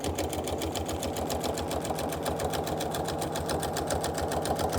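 Rapid steady stitching of a sewing machine quilting in the ditch on a quilt made from shirts, an even motor hum with quick needle clatter, close and uninterrupted.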